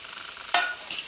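Mint leaves land in a hot frying pan for a green chicken gravy, setting off a sharp burst of sizzling. A second, smaller crackle follows under a soft background of frying, with no voices.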